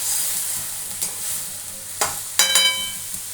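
Fenugreek leaves and eggplant for methi ringan shaak fry in a pan with a soft, steady sizzle, while a spoon scrapes and clinks against the pan a few times.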